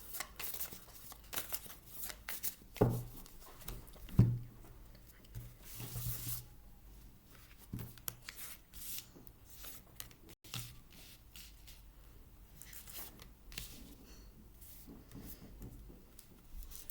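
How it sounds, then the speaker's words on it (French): A tarot deck is reshuffled before a reading, giving soft, irregular riffles and card slides at close range, with a few sharper bursts near the start and a faint steady background throughout. "Je remélange bien votre jeu juste avant de faire le tirage"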